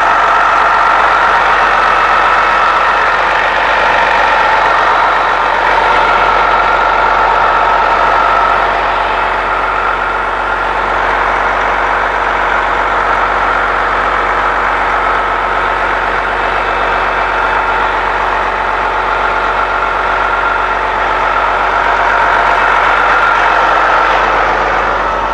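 A Detroit Diesel Series 60 engine idles in a 2001 MCI D4000 prison bus, a loud, steady diesel rumble with a constant whine layered on top, continuous and close with no talking.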